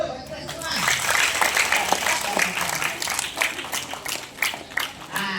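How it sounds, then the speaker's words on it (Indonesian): Elementary school students at a fire brigade education session clap together in a lively burst of applause, mixed with a voice speaking over it and chatter. "Tepuk tangan dulu buat semua."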